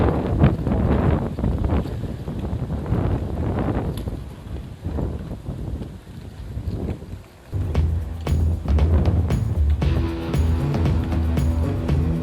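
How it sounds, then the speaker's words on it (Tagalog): Strong wind buffets the microphone during a ride, a heavy gusting roar in the low end that rises and falls, then turns into steadier, harsher rushing toward the end. "Malakas na hangin."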